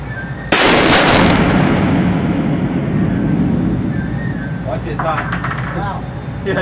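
A single very loud .50 BMG rifle shot at an outdoor shooting range, a sharp blast followed by a long rumbling decay, with faint voices afterward.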